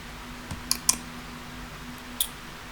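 A computer mouse clicked a few times on a desk while making an assignment in Google Classroom: scattered, close, light clicks, two in quick succession then one more after a pause, against a quiet room hum with no talk.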